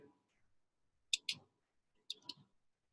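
Two pairs of sharp computer mouse clicks, close and distinct, with a short pause between the pairs, as an item is added to an invoice in accounting software; otherwise quiet.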